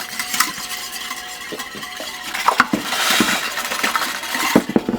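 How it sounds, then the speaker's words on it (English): Eggs are whisked in a bowl, close and fairly loud, with a metal whisk clinking and scraping in quick irregular strokes over a steady swishing wash. "That's how you fucking whisk eggs"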